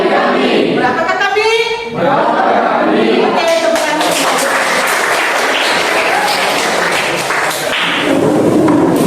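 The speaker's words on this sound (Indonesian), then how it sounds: "Oke, tepuk tangan." A classroom of students clapping hands together on cue, a loud burst of dense applause running several seconds after a short stretch of chanting voices, with talk mixed in.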